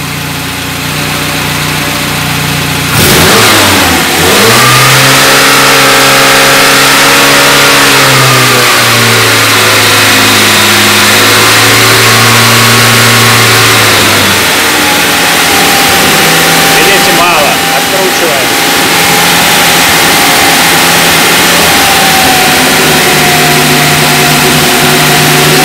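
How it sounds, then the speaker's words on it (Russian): A carburetor car engine fitted with an LPG gas system revs up from idle and holds at raised RPM, a loud, close, steady mechanical drone that climbs, shifts pitch and settles again, with a voice briefly audible over it. "Мы берем, газуем."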